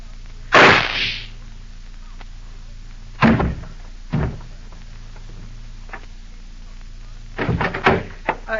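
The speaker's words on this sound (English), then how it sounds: "I heard a shot." A sharp gunshot effect in a 1949 radio crime drama cracks loudly, followed later by a few dull thumps and a cluster of quick knocks, with brief dialogue around them.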